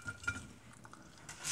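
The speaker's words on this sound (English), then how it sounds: "now I'm gonna take the rest of my vegetables and just start to add them inside." Vegetables drop into a crock pot with a few quiet clunks and soft clatters against the pot, spaced irregularly and fairly close, ending in a brief rustling scrape.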